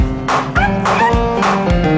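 Several dogs bark and yip in rhythm along to a song parody, sharp repeated barks over the music with a whimpering, sung quality.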